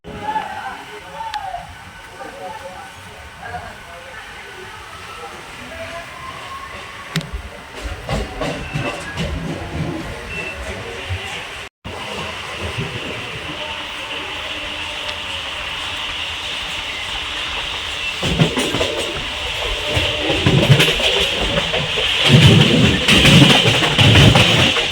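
A suburban train near Andul station is heard from inside a carriage: a continuous hissing rumble of running wheels and clatter that swells louder toward the end, with voices talking in the background at times.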